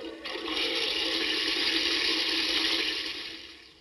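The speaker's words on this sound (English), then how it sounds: "a device which generates the sound of a toilet flushing for 25 seconds" A Japanese Otohime toilet sound device plays a recorded toilet flush, a steady close rushing of water that holds for a few seconds and then fades.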